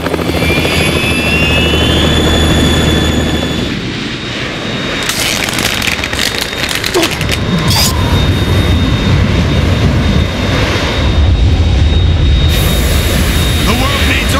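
Harrier jet attacking in Metal Gear Solid 2, a loud, continuous roar of jet engine and rotor-like thrum filling the scene, with blasts and bursts layered on top and voices speaking over it.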